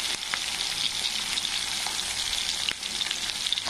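Chopped ridge gourd frying in a pan, giving a steady close sizzle with a few soft stirring scrapes, continuous and fairly loud with no talk.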